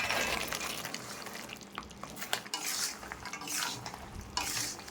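Fried khaja pieces being stirred through thick, reddish sugar syrup over high heat, giving a steady close scraping and sticky bubbling with frequent brief clinks throughout, no voices.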